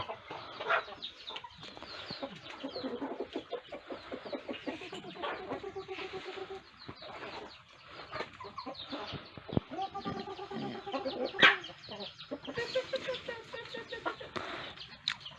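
Chickens cluck and squawk in a busy chorus on a Thai chicken farm, with scattered wing flaps and occasional louder calls over steady background clatter.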